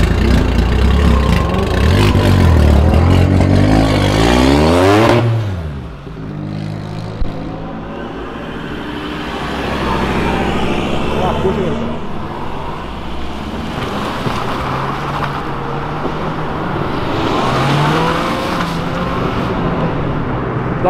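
A Honda Del Sol sports car roars away at night, loud and close for several seconds before quickly fading, leaving a steady windy rumble in the background.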